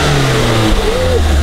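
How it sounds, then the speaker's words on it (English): A Scion tC engine fitted with a Borla S-Type exhaust and an AEM cold air intake revs up close and loud, its pitch climbing then falling back toward a steady burbling idle. "Alright, go ahead and give it a little rev."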